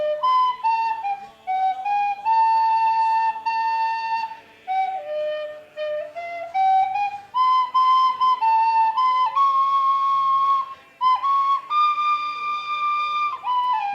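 A tin whistle plays a continuous melody of clear, bright sustained notes with brief gaps between phrases, stepping up and down in pitch, close and fairly loud with no talking.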